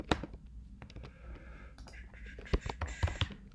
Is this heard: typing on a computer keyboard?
yes